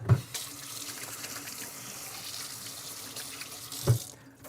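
Tap water runs into a kitchen sink as something is rinsed under the faucet during a cooking livestream, a steady close splashing stream with brief knocks at the start and near the end.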